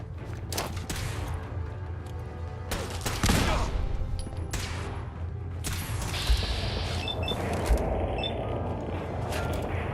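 Gunfire in Fallout 4, with rapid bursts of automatic shots and sharp booms and a mechanical reload clatter partway through, loud and close over ambient game sound, no talking.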